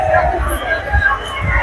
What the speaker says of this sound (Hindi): काफी ज्यादा भीड़ है